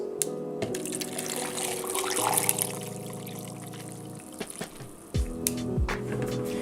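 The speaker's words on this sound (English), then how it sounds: "Pour that baby over ice." Sweet tea poured over ice in a home kitchen, a steady close liquid pour with trickling and splashing that runs for several seconds, ending in a few clinks and a short gurgle, with no talking.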